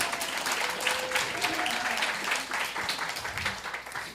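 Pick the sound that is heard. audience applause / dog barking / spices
audience applause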